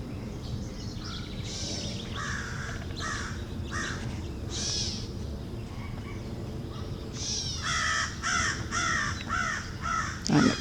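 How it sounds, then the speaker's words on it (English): Crows caw repeatedly near a rural tree line during outdoor work, harsh calls in bursts and overlapping runs over a constant low rumble, growing busier toward the end. "the crows keep me company when I do the work here"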